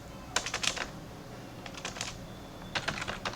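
Typing a pip install command on a computer keyboard, with quick clusters of crisp key clicks in three short bursts separated by brief pauses, close and clear against a quiet background, with no voices.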